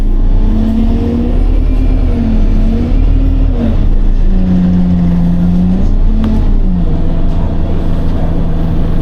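A UK city bus drives along, its engine droning loud and close from inside the cabin, with the pitch rising and falling through several gear changes as it accelerates.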